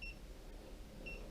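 Two brief electronic beeps from a Xiaomi Mi Electric Scooter Pro 2 during setup, one at the start and one near the end, thin and high-pitched over a low steady hum.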